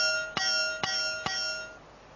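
An old bell made from a piece of railway line is struck three times at an even pace, and each strike rings clear and metallic with a sustained tone that fades slowly.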